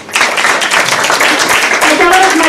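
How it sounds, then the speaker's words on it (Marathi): Audience clapping at a live Ayurveda lecture on joint pain and spinal disorders, a brief steady burst of many hands filling the room for about two seconds, with a voice speaking underneath. "टाळ्या टाळ्या."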